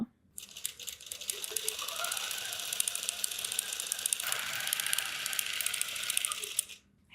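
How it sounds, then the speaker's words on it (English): An automated sewing machine stitches a 1 inch quilting grid, its fast, even mechanical rattle and ratcheting whir running steadily for several seconds before stopping abruptly, fairly quiet and close. "single stitch, pull up our bobbin, and we can hit sew"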